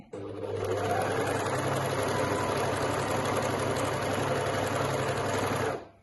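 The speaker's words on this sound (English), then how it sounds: "I'm going to sew another bit" A sewing machine stitches fabric in one continuous fast run with a steady buzzing whir, starting and stopping abruptly over a few seconds.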